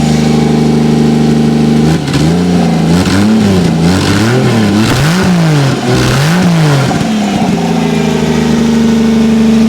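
A 2JZ-GE engine swapped into a 1987 Toyota Supra runs loud and close, idling with a steady hum and a few short throttle blips that rise and fall in the middle before settling back to a high idle.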